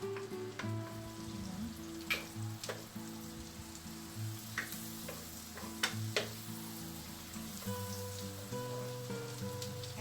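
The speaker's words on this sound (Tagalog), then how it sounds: "isusutay natin yung ating garlic" Garlic sautéing in a pan, a steady crackling sizzle with scattered pops and occasional scraping stirs, running continuously at moderate loudness alongside a low background hum.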